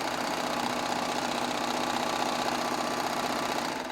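A Baby Lock Triumph serger stitches a serger chain with a fast, even mechanical whir that runs steadily and close up, with no one talking.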